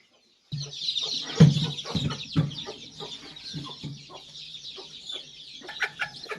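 A country hen clucks repeatedly nearby while thin, high peeping from her chicks runs continuously underneath.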